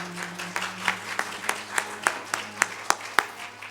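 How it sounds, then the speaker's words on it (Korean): A church congregation at a Korean Sunday worship service in New Jersey claps in sparse, evenly spaced beats over a low hum, fairly faint and without voices. "다시 한번 크게 박수하여서 우리 응원하도록 하겠습니다"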